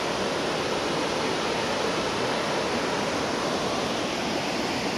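Gollinger waterfall in Austria, water crashing down with great force, a dense, loud, unbroken roar heard up close, steady throughout with no voices.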